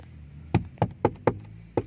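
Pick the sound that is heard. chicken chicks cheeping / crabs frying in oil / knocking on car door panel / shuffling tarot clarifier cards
knocking on car door panel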